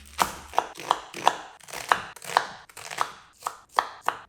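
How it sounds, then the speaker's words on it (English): A knife chops garlic cloves finely on a cutting board, about a dozen crisp, evenly paced knocks close up and fairly loud, with nothing else heard. "I've also got 3 cloves of garlic finely chopped."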